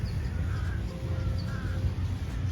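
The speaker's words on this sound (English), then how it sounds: "The crow is over here getting them a drink of water" A crow caws near a water spot in Rommaninat Park, Bangkok, giving a few harsh, repeated calls over a steady outdoor background hum.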